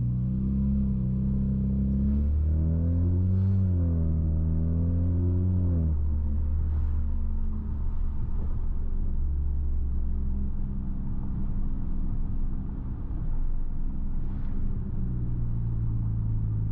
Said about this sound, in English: see if we can get some exhaust.